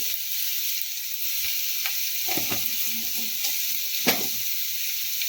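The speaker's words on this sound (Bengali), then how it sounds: "মিক্সি বাটিটা দিয়ে একটু জল দিয়ে দিলাম নাহলে মশলাটা পুড়ে যাবে একটুখানি ভাজবো মশলাটাকে" Ground spice masala with coriander powder and turmeric frying in a pan with a splash of water for a Bengali masala baingan, giving a steady close sizzle with a few soft stirring scrapes and one sharper clink.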